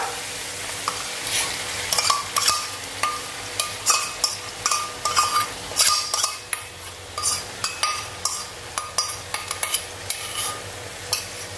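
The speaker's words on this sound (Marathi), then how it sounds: "आणि व्यवस्थित आपण हे आता परतून घेऊया" Yogurt mixture being sautéed into an onion-tomato gravy for egg biryani over a low flame, a soft sizzle broken by repeated scraping and clinking of a spoon against the pan in an uneven rhythm.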